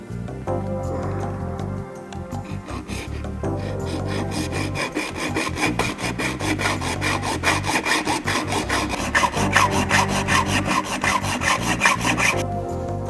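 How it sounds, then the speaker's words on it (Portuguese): A hand saw rasps through an aluminium profile in steady, rapid back-and-forth strokes, loud and close, continuing for several seconds with a brief pause near the start. "Vou cortar com a serrinha de mão."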